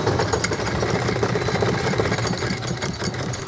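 A sewing machine runs steadily, stitching cloth for a homemade reusable sanitary pad, its continuous mechanical whir and rapid needle clatter holding an even loudness throughout with no talking.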